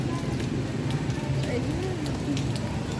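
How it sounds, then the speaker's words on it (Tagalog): Heavy rain pours down continuously outdoors, a dense steady hiss with patter on surfaces, loud and close with no break. "Lakas ng ulan."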